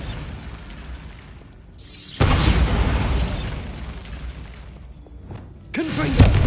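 In Hogwarts Legacy, a Bombarda spell detonates as a sudden loud blast followed by a sustained rumbling roar, with a second sharp burst near the end.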